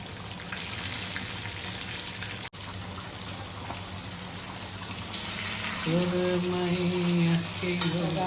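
Kingfish (surmai) slices frying in a pan, a steady dense sizzle and crackle that holds throughout at close range, with a brief sharp clatter near the end.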